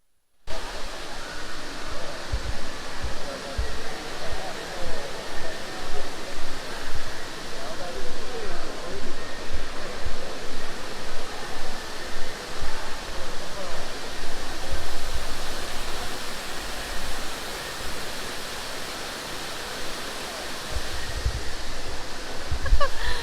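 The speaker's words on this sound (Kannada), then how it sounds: "ಒಳಗೆ ಕಾಡು ಥರ ಮಾಡಿ ಒಂದು ವಾಟರ್ ಫಾಲ್ಸ್ ಥರ ಮಾಡಿಕೊಟ್ಟಿದ್ದಾರೆ" An indoor artificial waterfall in a jungle-style garden at Bangalore airport's Terminal 2 gives a steady, broad rushing wash of falling water that fills the space, with faint voices in the background.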